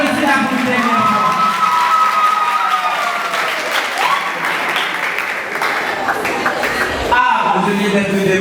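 A crowd applauds and cheers for a slam poet at a live performance, loud sustained clapping with shouts and whoops. Voices call out over the applause, which briefly dips before swelling again.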